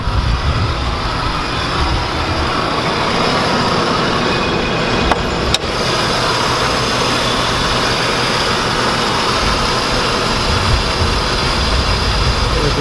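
A truck engine idles loud and close in a steady, unbroken rumble, with one sharp click partway through and no voices.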